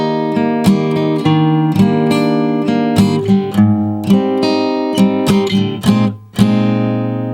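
Guitar plays a song's intro at full speed: clear, close chord strums and picked notes ringing in a steady rhythm, loud and alone with no talking.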